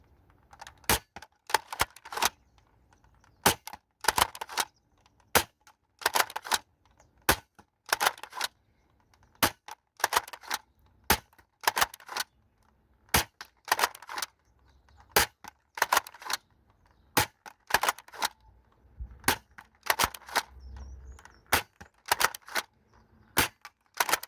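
A Dart Zone Stryker foam dart blaster fires repeatedly at a target, giving sharp, close snapping shots in irregular bursts with short pauses between them.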